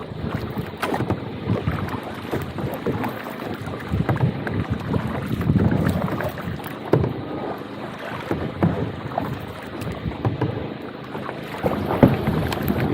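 A kayak paddled across Vatadahosahalli lake near Gauribidanur: steady watery swishes and splashes from the paddle with gusting wind noise on the microphone, close and continuous, with no talking.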